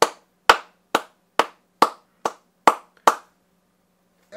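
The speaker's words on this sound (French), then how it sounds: "Guys, on rejoint, nous met ensemble puis on applaudit pour le vrai." A group clapping together in unison: eight sharp, evenly spaced claps about half a second apart, then silence with a faint sound at the very end.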